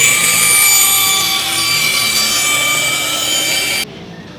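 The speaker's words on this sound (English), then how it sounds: "We have the bandsaw that cuts shapes in timber." A bandsaw cuts timber with a steady, bright, continuous whirring rasp that runs for about four seconds and then cuts off abruptly, leaving only a faint low hum.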